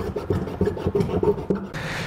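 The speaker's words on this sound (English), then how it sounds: "And we'll take our file and clean this up as well." A hand file rasps over the rough, freshly trimmed edge of a vehicle's plastic fascia during a hidden trailer hitch install, with quick, regular back-and-forth strokes close by and no talking.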